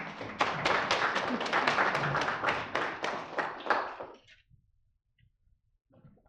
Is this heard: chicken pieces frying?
no